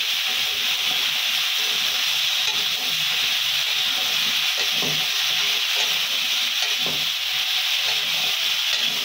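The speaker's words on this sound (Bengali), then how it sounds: "ভালো করে নেড়ে চেড়ে কচুরমুখীগুলো ভেজে নেব।" Taro (kochurmukhi) fries in a pan with salt and turmeric, a steady soft sizzle with scraping and stirring rubs throughout, close and continuous with no talk.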